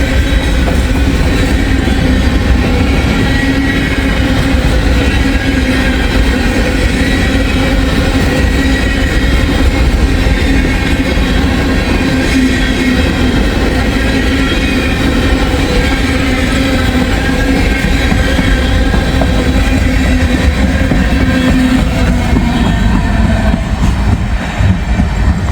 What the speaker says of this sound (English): This is empty grain train.